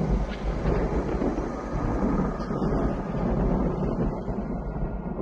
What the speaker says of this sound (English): No, I don't like thunder.